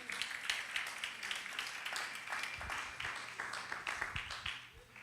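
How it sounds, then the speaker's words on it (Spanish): Church congregation applauding together, a dense run of clapping that keeps a fairly even level throughout, with a few sharper claps near the end. "le demos un aplauso al Señor en esta noche"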